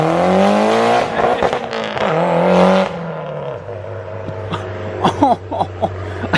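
A Mitsubishi Evo 8 race car launches hard on a street, its engine roaring loudly up through the revs for about three seconds before dropping to a rough idle punctuated by sharp pops and crackles, close by.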